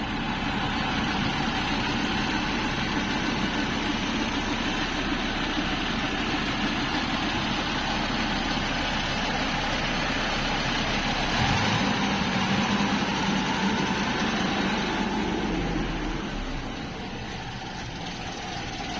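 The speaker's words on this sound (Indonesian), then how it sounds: "ini saat mesin stasioner atau idle rendah. Jadi suara mesinnya masih halus" A 1997 Mazda Vantrend engine idles smoothly at low revs, a steady close mechanical hum and rumble that holds constant for almost twenty seconds, dipping slightly in loudness near the end.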